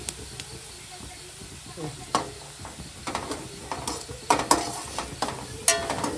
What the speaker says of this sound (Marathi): जरा हिंग टाकूया.